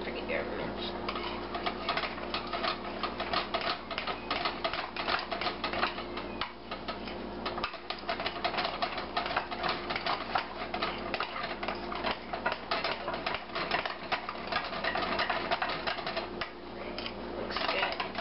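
Rebatched avocado soap is stirred in a container, producing a steady, dense clatter of rapid scraping and tapping that runs on without a break, with speech over it at times.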